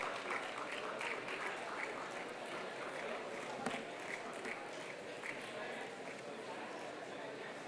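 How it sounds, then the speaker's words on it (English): Faint, continuous applause from a convocation audience in a hall, a soft wash of many hands clapping heard from a distance, with a few sharper claps standing out. "Audience, let your claps please be going on."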